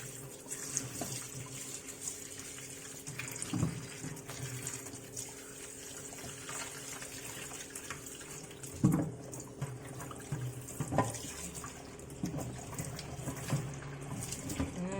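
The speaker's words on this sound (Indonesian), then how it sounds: "Cuci, kita bilas dengan air minum," Running tap water rinsing fruit for a fruit salad, a steady low splashing stream with occasional knocks and clatters of handling, fairly quiet and without talk.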